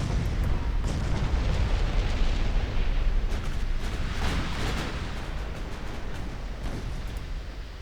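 Naval gunfire and shell explosions in the Ultimate Admiral Dreadnoughts battle game, Italian fleet in 1933, form a dense, continuous rumble of booms and bursts with no pauses, loud and sustained throughout.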